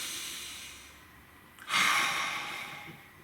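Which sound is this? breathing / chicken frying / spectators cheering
breathing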